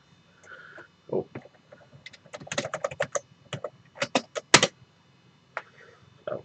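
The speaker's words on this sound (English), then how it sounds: "Using a Packard Bell keyboard on a compact." Typing on a Packard Bell computer keyboard connected to a Compaq, irregular bursts of close, clattering key presses and a few heavier thumps, with short pauses and no talking.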